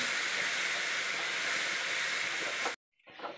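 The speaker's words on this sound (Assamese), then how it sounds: "মছলাখিনি অলপ মই ভাজি থাকিব লাগিব, মছলা তেলখিনি এৰি নিদিয়ালৈকে" Spice masala fries in oil for a goat meat curry, giving a close, even sizzling hiss that runs unbroken and then cuts off abruptly just before the end.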